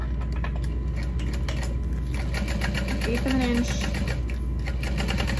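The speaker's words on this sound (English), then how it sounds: "I'm just gonna top stitch" Sewing machine top stitching along the edges of a front pocket on a backpack, a steady rapid mechanical whir running throughout with someone speaking briefly over it.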